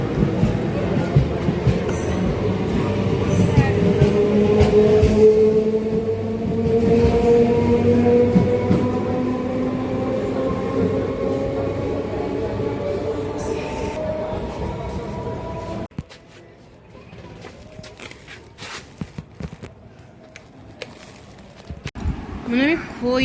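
A passing train rumbles loudly with steady wheel and carriage noise for about sixteen seconds, then cuts away to quieter household sounds with occasional knocks.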